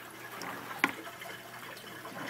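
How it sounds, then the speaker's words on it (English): Water pours steadily into an aquaponics grow bed fitted with a bell siphon and standpipe, a soft continuous trickle and gurgle with one brief splash near the start. "The water fills up to that standpipe"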